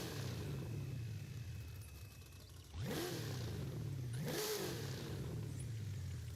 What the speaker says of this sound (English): That's the sound of 1750 horsepower